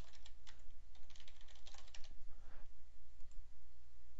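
A password is typed on a computer keyboard during a server setup, heard as a rapid run of close key clicks over a steady low electrical hum that trails off toward the end.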